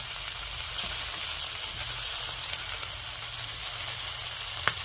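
Pork frying in a dry pan without oil, giving a steady, close, loud sizzle that crackles continuously with a few sharper pops.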